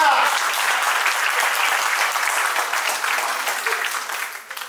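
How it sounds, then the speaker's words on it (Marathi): Sustained, dense applause from a crowd at a school alumni reunion for the 1986 batch of New English School, Kameri, loud and close, slowly tapering off at the end. "कामेरीपर्यंत आवाज केला पाहिजे टाळ्यांचा"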